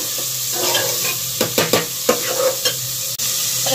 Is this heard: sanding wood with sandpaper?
no